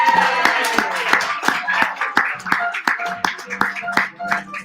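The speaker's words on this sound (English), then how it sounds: "Would you give her a round of applause?" Audience at a stand-up comedy benefit show applauds a comedian. The claps are sharp and fairly sparse, spaced unevenly as the clapping thins out, and a voice can be heard faintly in places.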